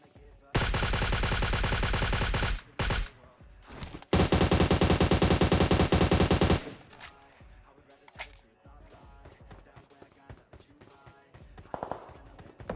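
Gunfire in the video game PUBG Mobile: two long, loud automatic bursts lasting a couple of seconds each, followed by scattered quieter single shots and rattles.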